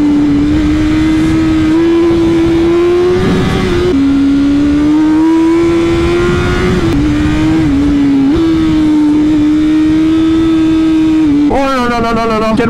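A motorcycle engine revs hard and close, a loud sustained whine rising and falling through several throttle blips and gear-like steps, ending in a sharp climb, with faint voices underneath.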